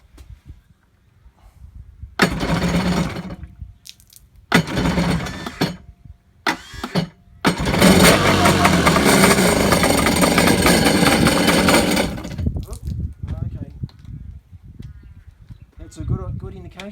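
A Kawasaki 550SX jet ski's small two-stroke engine is cranked after 21 years idle, with choke applied: a few loud close cranking bursts, then a rough catch that runs and revs for several seconds before sputtering down.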